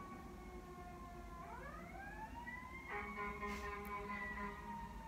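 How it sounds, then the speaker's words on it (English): Ambulance sirens wail close by, several overlapping tones sweeping upward together and then holding steady and loud over a busy background hum. "All the ambulances are going like crazy."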